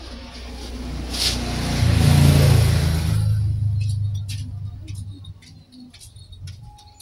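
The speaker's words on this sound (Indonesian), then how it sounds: "motor ini enggak sanggup starter ya, atau starternya nggak mengangkat, hanya berputar sebentar aja ya" An electric starter on a fuel-injected scooter cranks weakly for a couple of seconds with a rough, labored whir, then cuts out, leaving quiet clicks and small handling noises.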